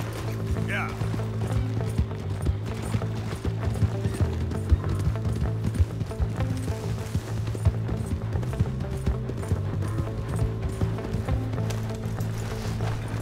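Horse hooves clop in Red Dead Redemption 2, a quick run of hoofbeats under a steady bed of game music and ambience, with no voices.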